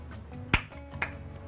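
Two sharp hand claps about half a second apart, the first louder and crisper, the second softer, set against a quiet room.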